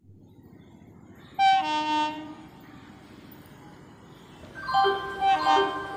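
The Ernakulam–Banaswadi superfast special train arrives at a station, sounding two loud, sustained horn blasts over a steady low rumble of rolling wagons, with no talking.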